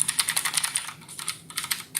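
A mechanical keyboard with blue switches clicks under quick typing, crisp sharp keystrokes arriving in rapid bursts up close, with a brief pause in the middle.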